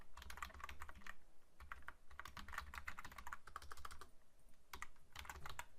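A computer keyboard typed in quick bursts as a domain name, myconsultanttraining.club, is entered, with clustered keystrokes and short pauses, close and clear, with no talking.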